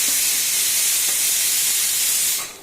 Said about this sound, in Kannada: ಲೈಟಾಗಿ ಲೋ ಫ್ಲೇಮಲ್ಲೇ ಫ್ರೈ ಮಾಡಬೇಕು.